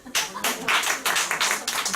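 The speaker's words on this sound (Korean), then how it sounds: "박수 한번 주세요." Audience clapping at a business group meeting in a hall, uneven bursts of hand claps rising and falling in loose rhythm, fairly close and loud, with no talk over it.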